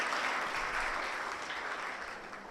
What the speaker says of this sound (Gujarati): સ્વાગત કરીએ તાળીઓથી.